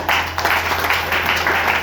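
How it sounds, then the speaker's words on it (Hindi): Audience clapping at a motivational business seminar in India, a steady crowd applause sustained throughout without breaks. "ये नंबर सर के लिए एक ताली होना चाहिए"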